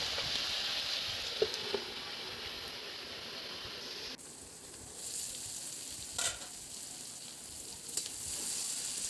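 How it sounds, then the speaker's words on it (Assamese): Pumpkin fries in a covered pan over a wood fire, with a steady loud sizzle that drops suddenly partway through, then continues more softly with a few light knocks. "এইখিনি এতিয়া মই ভালদৰে ঢাকোন মাৰি অলপ টাইম ভাজি ল'ম।"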